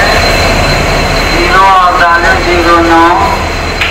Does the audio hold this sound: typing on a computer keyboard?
no